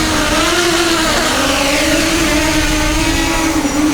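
SwellPro SPRY waterproof drone pushed to full throttle, its motors giving a steady, loud whirring drone with a slowly wavering pitch, close and continuous, no talking.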